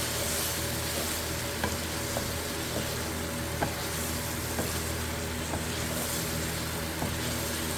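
Chicken eggs and gizzard fry in a pan with a steady, soft sizzle, and faint metallic scrapes of stirring tick in now and then throughout.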